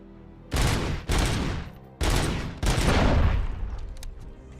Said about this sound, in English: that's some really lousy shooting